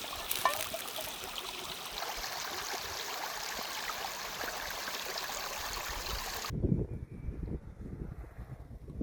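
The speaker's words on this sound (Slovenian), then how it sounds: "Tako se čisti posodo." Flowing water of a clear stream while dishes are rinsed in it, a steady broadband rush of trickling water and wind, then an abrupt shift to a lower, lumpier splashing near the end.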